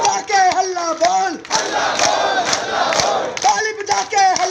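A protest crowd of striking assistant teachers chanting slogans in unison and clapping, loud and close, with rhythmic shouted calls and responses and a burst of clapping and cheering between the chants.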